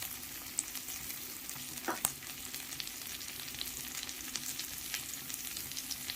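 Masala with two slit green chillies and chopped tomato frying in a pan for a Bengali rohu and pointed gourd curry, a steady close hiss of sizzling oil with a brief stir-like scrape near the start, no talking.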